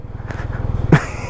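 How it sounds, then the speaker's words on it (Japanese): A moped scooter rides across a pedestrian crossing, its small engine buzzing steadily and close for a moment before a brief louder rise near the end. "この横断歩道をね、ブーンとこうスクーターで行かれたっていうね"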